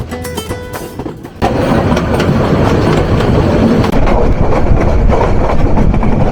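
The Parabat Express, a Bangladeshi train on the Dhaka to Sylhet line, runs on the rails. A quieter rumble swells suddenly into a loud, continuous roar with rhythmic clickety-clack of the wheels.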